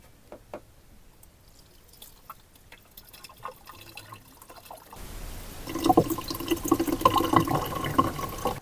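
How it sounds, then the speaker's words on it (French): Water poured from a container into the reservoir of a compact dishwasher fitted in a campervan, starting as faint dripping and then becoming a louder, splashing, gurgling pour over the last few seconds. "Donc je vais rajouter de l'eau."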